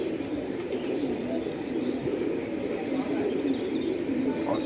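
Male and female silver pigeons coo softly with scattered chirps, nearby and steady beneath people talking.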